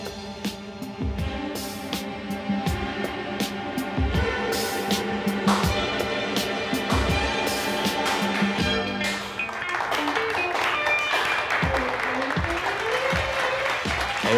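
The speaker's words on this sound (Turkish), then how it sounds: "Evet arkadaşlar, bu alkışlanacak bir şey." Office colleagues applaud together after a promotion announcement, a steady close round of clapping that lasts throughout, with voices chattering under it.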